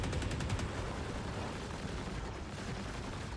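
Enemy gunfire in a video game, a dense continuous rattle of shots with rapid bursts at the start, steady and loud throughout.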